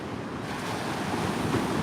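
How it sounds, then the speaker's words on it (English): Large ocean surf, waves about four to six feet high, crashing onto Coney Island Beach; a steady, loud roar of breaking water mixed with wind buffeting the microphone, swelling slightly toward the end, with no talking. "That's a big wave."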